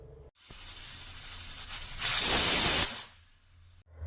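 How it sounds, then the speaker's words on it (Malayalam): Pressure cooker on a stove steaming yam: a steady high hiss builds, then a loud sharp steam whistle blast for about a second before fading back to a low hiss, no talking. "ഇനി കുക്കർ മൂടിയിട്ട് നമുക്ക് മൂന്ന് വിസിൽ കേൾപ്പിക്കാം"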